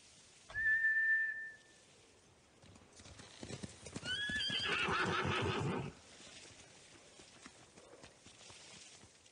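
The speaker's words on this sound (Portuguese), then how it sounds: "São cavalos de samurai, treinados para voltar para seus mestres." Samurai horses in the video game Ghost of Tsushima neigh in a loud, drawn-out whinny, then a burst of clattering hoofbeats gallops past with another whinny before fading to quiet ambience.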